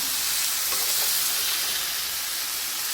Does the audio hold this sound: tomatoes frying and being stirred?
yes